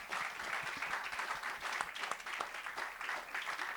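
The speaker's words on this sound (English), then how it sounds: "Let's do one more round of applause because I can" An audience at a live podcast taping claps in sustained, dense applause that stays at an even level for several seconds, with faint voices mixed in.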